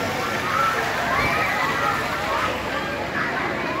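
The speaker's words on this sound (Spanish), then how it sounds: "Hay que echarles agua, ahí están tirando agua" Water is thrown and splashes at a Guatemalan Independence Day torch-run celebration, a steady sloshing wash heard up close among crowd noise.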